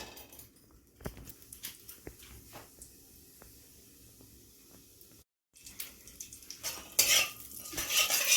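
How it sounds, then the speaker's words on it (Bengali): Whole cumin and a pinch of panch phoron are stirred in a hot pan while making jolpai (Indian olive) chutney, with scattered utensil clinks and scrapes, a brief pause, then louder hissing toward the end. "এবার একটু নাড়বেন, গরম হয়ে গেছে"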